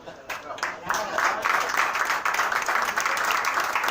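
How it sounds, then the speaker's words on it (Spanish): An audience applauds at a poetry tribute event, a dense patter of clapping that swells after the first second and holds steady, heard mixed with speech. "quiero dejar con un gran aplauso"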